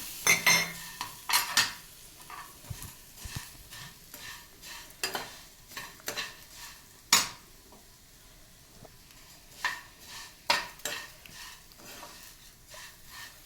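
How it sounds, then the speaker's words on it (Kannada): Vermicelli roasting in ghee in a pan for semiya payasam, stirred with a spoon that scrapes and clinks against the metal in irregular bursts over a soft sizzle, close and fairly quiet, with no talk. "ಅದೇ ತುಪ್ಪದಲ್ಲಿ ಸ್ವಲ್ಪ 1 ಬಟ್ಟಲು ಶಾವಿಗೆಯನ್ನು ಇಟ್ಕೊಂಡಿದ್ವಲ್ಲ ಅದನ್ನು ಹುರಿಯಬೇಕು"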